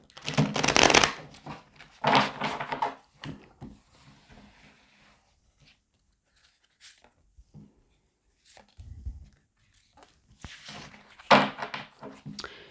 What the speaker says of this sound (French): je vais positionner les cartes comme ça